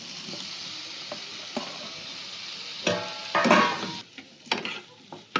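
Boiled potatoes stir-fried in spiced oil for a Kolkata street-style egg roll filling: a steady close sizzle runs throughout, broken near the end by louder bursts of spatula scraping and tossing against the pan.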